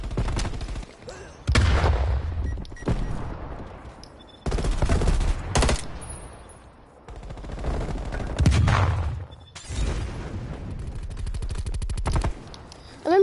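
Loud gunfire from a Call of Duty weapon, sharp automatic bursts in several separate strings with brief pauses between them, close and dominant over the game's background noise.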